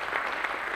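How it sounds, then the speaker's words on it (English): An audience at a tech challenge event claps in a dense, steady burst of applause, brief and moderately loud, with no speech. "So put your hands together for ATC Season 10."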